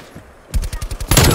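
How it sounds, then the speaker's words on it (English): Burst of rapid automatic fire from a sentry turret in the Call of Duty Black Ops Cold War video game, a loud stuttering rattle of shots breaking out after a quiet moment and growing denser. "Hostile sentry turret active."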